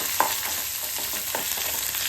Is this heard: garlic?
yes